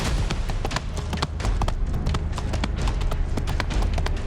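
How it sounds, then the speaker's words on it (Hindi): A horse galloping through a damp forest, its hoofbeats pounding in a fast, close, loud clip-clop rhythm that drives steadily on without a break. "उनके पीछे घोड़े के दौड़ने की आवाज तेज होती जाती है"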